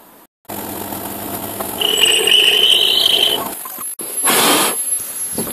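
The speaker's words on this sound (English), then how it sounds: "So that one's literally 6 holes that I've got to drill" Holes being drilled one after another into a mould block for DIY injection moulding, with a steady whining machine tone rising midway, a short pause, then a harsher, louder grinding burst near the end.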